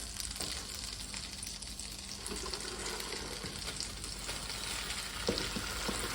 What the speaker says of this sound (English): The butter is already foaming up, which is great, because that just makes it taste better as well. I lower the heat just a bit, and I think I can already add my spinach.